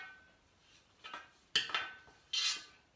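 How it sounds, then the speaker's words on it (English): A spatula scrapes sticky chapati dough off Thermomix blades in a short run of metallic clinks and scrapes, with three distinct bursts that are close and fairly quiet, and no talking. "I've got quite a lot of dough stuck around the blades. So I'm just going to pull a bit more out with my spatula"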